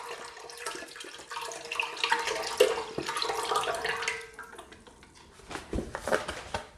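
Beef broth pours from a carton into a cooking pot, a faint gurgling stream of liquid that swells, eases off, then splashes again near the end.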